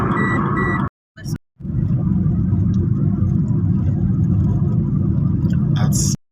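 Car traffic on a Kenyan road on a busy Friday evening gives a steady low engine rumble and road noise, with a brief beeping at the start and two short dropouts.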